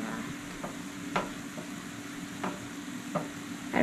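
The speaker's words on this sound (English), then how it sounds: "I kind of like to just pull my eggs and push them around." Salted eggs sizzle in a frying pan while a utensil pushes them around, giving a steady low frying hiss broken by a few sharp scraping strokes.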